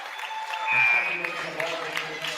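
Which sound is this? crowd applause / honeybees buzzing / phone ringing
crowd applause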